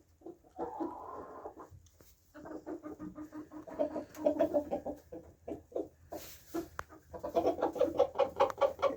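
A small flock of chickens, one cockerel and four hens newly settled into their surroundings, cluck in bursts of short repeated calls, some louder and nearer, with a pause before the clucking resumes.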